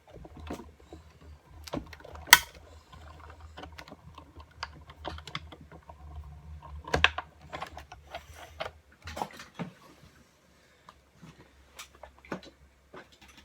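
Stampin' Up! die-cutting machine hand-cranked with a card and cover plate fed through it, giving a quiet run of irregular clicks and ratcheting ticks over a low rumble that thins out toward the end.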